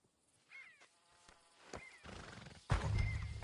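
A horse in Red Dead Redemption II whinnies twice with harmonic calls, then a louder, rougher neigh bursts in near the end, close and loud over a quiet background.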